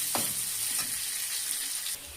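Onions fry in a pan with a steady, close sizzle. A few quick stirring scrapes break in near the start, and the hiss eases slightly at the end.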